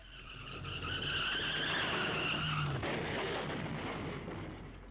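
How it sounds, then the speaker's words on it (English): A car skids with screeching tires and a heavy rumble as a sound effect in the horror video game Corpse Party: Blood Drive, one loud sustained skid swelling and fading over several seconds with no talk. "I heard a loud crash just outside my house. It was unmistakably a car wreck, and a rather severe one at that."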